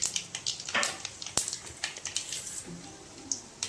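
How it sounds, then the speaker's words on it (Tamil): Mustard seeds sputtering and popping in hot oil while potato fry is being cooked, a quick irregular run of sharp crackles over a faint steady sizzle, close and fairly quiet, with no talking. "இப்போ கடுகு போட்டுக்கிறேன்"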